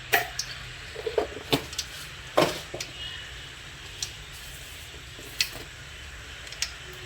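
Mustard seeds, chana dal and urad dal crackle in hot oil, scattered sharp pops and sizzling ticks bursting irregularly over a soft background hiss.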